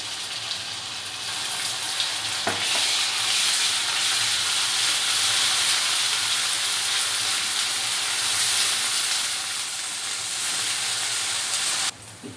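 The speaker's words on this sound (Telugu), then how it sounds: "ఇప్పుడు అల్లం వెల్లుల్లి పేస్ట్ యాడ్ చేసుకుంటున్నాం." Ginger garlic paste fries in a hot pan with a loud, continuous, even sizzle and hiss that holds throughout, with a brief clink near the end.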